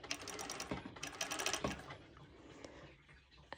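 A sewing machine top stitching fabric runs in quick, rapid rattling bursts close by, stopping and restarting a few times before falling quiet near the end.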